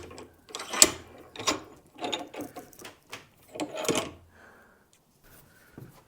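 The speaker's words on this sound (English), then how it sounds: "All right, Slaymaker, it's you versus the Doyle bolt cutters." Doyle 18-inch compound bolt cutters from Harbor Freight biting into a Slaymaker padlock, a series of close, sharp metallic clacks and ratcheting squeezes in bursts, ending in quieter clicks.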